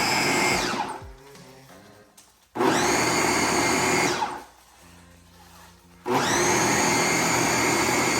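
A countertop blender on its smoothie setting grinds peanuts into homemade peanut butter, roaring loudly in long bursts that wind up and cut off, with quieter pauses between runs.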